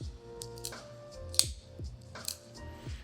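A Benchmade Bugout 535-3 folding knife flicked open and closed, producing a handful of sharp, gritty clicks and snaps at close range with quiet pauses between.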